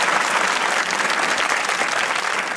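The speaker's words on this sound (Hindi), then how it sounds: "आप में से जिनको पता ही है क्या है तालियां बजाएं" A studio audience at the Pakistani comedy talk show Hasna Mana Hai breaks into dense, loud applause, a steady unbroken roar of clapping.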